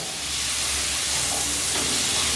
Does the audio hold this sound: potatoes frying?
yes